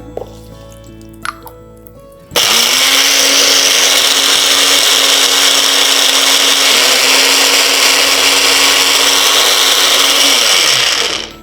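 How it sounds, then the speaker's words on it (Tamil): A mixer grinder switches on abruptly and roars loudly and steadily for about nine seconds, grinding karuvelam gum with boiled cow's milk into a fine paste, then winds down; faint clinks are heard before it starts. "நல்லா ஃபைன் பேஸ்ட்டாக அரைஞ்சதும் நம்ம இன்னும் கொஞ்சம் பால் விட்டுக்கலாம்"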